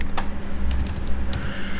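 Fast typing on a computer keyboard while filling in a web form, with close, steady clicking keystrokes and a few louder key taps.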